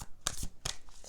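Oracle cards are shuffled by hand in two quick riffling bursts, each a bright papery flutter about half a second apart, close and clear, with no talking.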